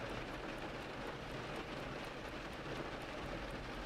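Steady, even rainfall with a constant hiss, soft and continuous throughout with no voices.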